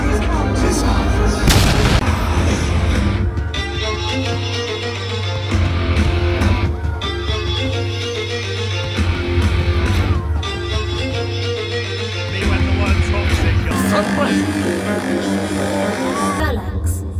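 Fireworks at an Alton Towers show, the Phalanx Light Speed Missiles display, boom and crackle in loud repeated bursts over a dense backdrop of music and amplified show narration.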